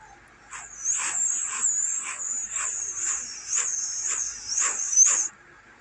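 A small dog lets out a run of high, thin whimpers and yips, repeating steadily for about five seconds, close and fairly loud.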